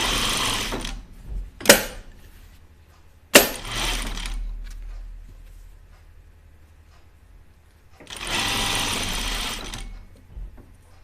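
An overlocker runs in short bursts while serging dress skirt pieces, with quick stitching runs separated by pauses and a couple of sharp clicks and clunks between them, close and clear.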